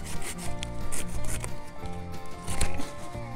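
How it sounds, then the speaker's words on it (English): Pruning saw cutting through a thick root of an invasive bittersweet vine climbing a tree outdoors, giving a steady rasping, rubbing sound of repeated strokes, close and continuous, with no talking. "a pruning saw."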